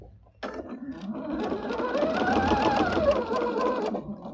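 A sewing machine stitches steadily along a quilt for about four seconds, a close, continuous mechanical whir with no talk over it.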